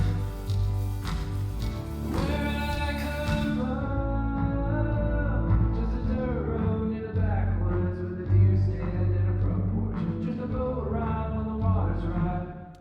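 Reverb return soloed with its EQ bypassed in a studio mix, carrying a washy, full-band tail behind a sung vocal and music, steady and dense throughout with a brighter top end in the first few seconds.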